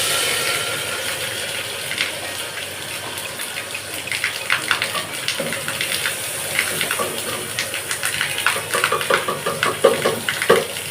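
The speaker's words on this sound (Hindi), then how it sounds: "और दोस्तों बाहर बहुत तेज़ बारिश भी हो रही है," Heavy rain pouring outside a home kitchen gives a dense, steady hiss of water with scattered sharp drips and pattering. Faint clatter of cookware sits underneath, and the downpour is continuous throughout.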